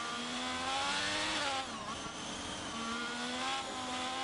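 Race car engine in a sim racing league game screams as it accelerates down a straight with DRS open, a loud sustained whine rising in pitch, dipping briefly at a gear change, then climbing again.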